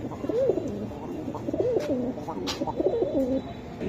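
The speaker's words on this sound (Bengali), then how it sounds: "এই যে দেখেন কবুতরটা" Budapest racer pigeons coo close by in soft, rolling phrases, several calls in a row over light background noise.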